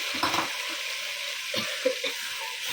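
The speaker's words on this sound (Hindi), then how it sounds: "अभी इसके अंदर दिल डालेंगे और ये प्याज और इसके अंदर अच्छे से भुनेंगे" Goat heart pieces and onions fry in a hot pan and get stirred, a steady low sizzle broken by a few brief scraping and clinking strokes of the spoon.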